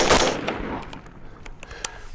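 A rifle fitted with an H2 buffer and a muzzle brake firing, a loud sharp report up close that decays over about a second, followed by faint scattered clicks and a small later transient.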